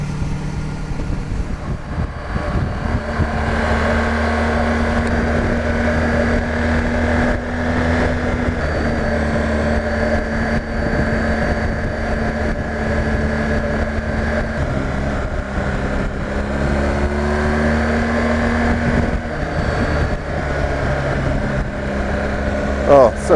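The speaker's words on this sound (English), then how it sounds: "It's a bit different when you're on the back of a 1200 touring motorcycle going at pace around a race course." A 1200 touring motorcycle at speed around the Isle of Man TT course, its steady engine drone and wind rush continuous and close throughout, with pitch shifts as the engine revs rise and fall.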